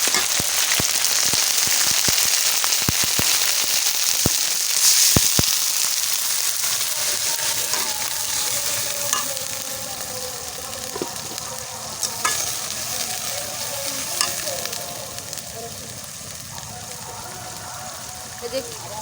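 A paste of ginger, garlic and cumin hits hot oil in a pan with a loud, dense hiss that slowly settles into a steadier sizzle with scattered pops, while a voice talks throughout.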